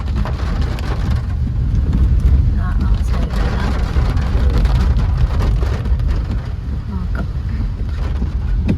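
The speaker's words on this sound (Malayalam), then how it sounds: "മഴ ചാട്ടലും ഉണ്ട് അതുകൊണ്ട് പതുക്കെ സൂക്ഷിച്ച് ഇറങ്ങി പോകുന്നു" Heavy rain with blowing spray on a hillside in Idukki, a dense roaring wash of water noise, loud and constant across the whole stretch.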